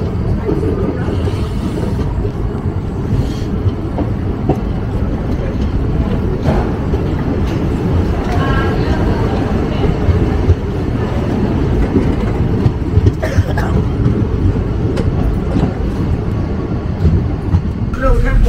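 The Kirandul Express pulls out of Araku station at night, a steady loud rumble and rattle of railcars heard from on board, with some clatter and faint voices in the background.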